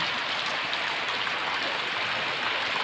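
Torrential rain roars in a dense, unbroken wash, loud and even throughout with no voices over it.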